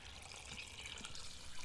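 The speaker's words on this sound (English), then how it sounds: "Put 4 quarts of cool water in the pot" Cool water pours into a soup pot in a soft, steady rushing stream, faint and continuous throughout, with no voices.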